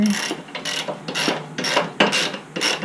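A ratchet tightens a 13mm bolt on a Baja Warrior 196cc mini bike, giving close, crisp bursts of rapid clicking, about six strokes in steady rhythm with short pauses between.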